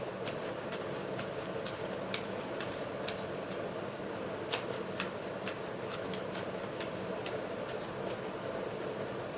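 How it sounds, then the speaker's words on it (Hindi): A deck of tarot cards is shuffled in quick repeated riffles, crisp and close, with short flutter bursts spaced irregularly over a soft steady background hum. "और let us shuffle your cards."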